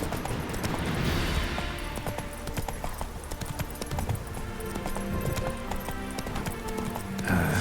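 Roach, the horse in The Witcher 3, gallops with busy, rapid hoofbeats among loud in-game action and music, the clatter continuing throughout with no clear pause; a brief voice is faintly present.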